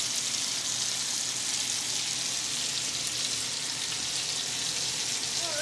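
Whiskey chicken pieces fry in a pan of hot grease, giving a steady, dense sizzle that stays loud and even throughout with no voices.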